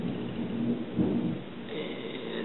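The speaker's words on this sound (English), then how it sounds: "you can probably hear the nice thunderstorm going on right now" Low thunder rumbles over a steady wash of rain, dull and muffled, swelling briefly in the middle.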